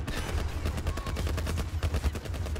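Enemy gunfire in The Last of Us video game, a dense run of repeated shots crackling loudly and steadily across the whole moment over a low rumbling game background.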